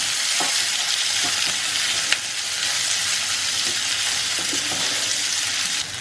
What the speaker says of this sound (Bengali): তেল দিয়েছি, এবার আমরা দিয়ে দেবো পেঁয়াজ কুচনো আর লঙ্কাগুলো